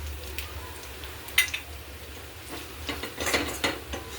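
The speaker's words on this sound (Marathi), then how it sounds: "शेंगदाण्याचं कूट 2 मिनिट परतून घेऊ" A spoon stirs roasted peanut powder into golden fried onion in a pan, making soft scraping and clinking strokes that are close and moderately loud, busier toward the end.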